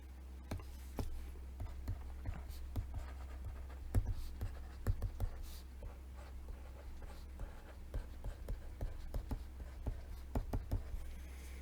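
Pen or marker scratching out an equation on a board, a run of short strokes and taps at an irregular pace, faint and close against a low steady hum.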